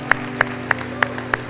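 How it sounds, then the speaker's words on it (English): Five sharp, evenly spaced claps ring out at a steady slow beat over a low background hum, as a church audience gives a hand clap to celebrate people. "you got a hand clap for people"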